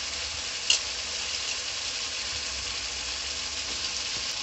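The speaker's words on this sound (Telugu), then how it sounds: "ఇప్పుడు కట్ చేసి పెట్టుకున్న వంకాయలు వేసేసుకుందాం" Cut brinjal pieces drop into hot oil for an oil brinjal chutney and get stirred. A steady, even sizzle hisses throughout with one faint tap, and no voices.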